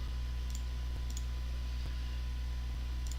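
Several faint, sharp computer mouse clicks sound at irregular intervals over a quiet, steady background hum.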